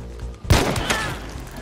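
In the video game Hunt: Showdown, a long-range rifle shot lands a headshot: one sudden loud crack with a deep thump, followed by a short rumbling tail.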